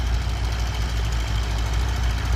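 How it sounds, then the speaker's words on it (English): A tractor engine runs while plowing a field at a steam and gas engine society plow day, a steady low rumble with a rough, knocking throb that stays close and continuous, with no voices. "I don't know what tractor this is."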